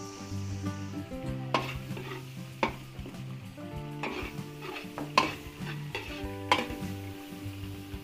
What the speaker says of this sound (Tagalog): Gisa po natin yung ating chicken fillet.